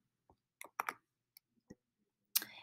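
Computer mouse clicks while working in Google Classroom: a scattered series of crisp, close clicks, some in quick pairs, with near silence between them.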